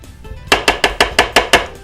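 A mixing bowl being scraped clean while preparing Thai scallops: about seven quick, evenly spaced scraping knocks in a steady rhythm, close and fairly loud, following a softer start with no talking.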